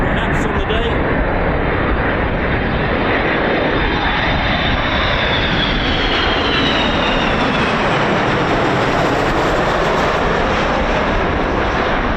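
A military aircraft makes a low approach over RAF Mildenhall, its engine roar loud and steady for the whole stretch, with the pitch sweeping as it passes overhead.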